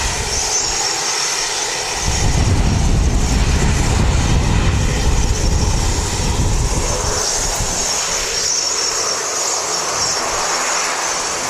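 A Dash 8 turboprop arrives from Napier at Wellington Airport, its broad engine and propeller roar building loud and steady at close range with no voices over it.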